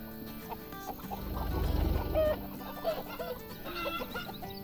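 Chickens on a farm in the game Farm Manager 2018 cluck and chatter with soft, irregular calls over a quiet game ambience.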